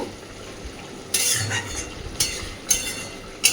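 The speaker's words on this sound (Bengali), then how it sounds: "ধনেপাতা কুচিটা দেওয়ার পরে নাড়াচাড়া করে জাস্ট একটু মিশিয়ে দেব।" Fish curry with aubergine and potato being stirred in a pan after chopped coriander goes in: a few separate scraping, clinking strokes of a spoon against metal over a faint sizzle, with no talk.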